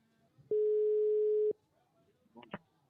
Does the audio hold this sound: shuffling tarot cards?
no